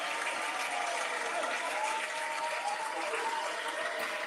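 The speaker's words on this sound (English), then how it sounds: "let's go ahead and give her a round of applause" Applause from an audience for a school board member, a steady dense wash of clapping lasting about four seconds with no gaps, fairly even in level throughout.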